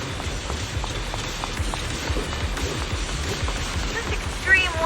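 Wind and rain in Zenless Zone Zero make a dense, steady wash of rainfall with faint patter and low gusty rumble, continuous and fairly quiet, swelling slightly near the end.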